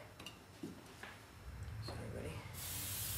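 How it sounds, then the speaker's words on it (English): A few quiet taps, then a close, steady hiss of an aerosol hairspray that starts near the end and keeps going. "More spray."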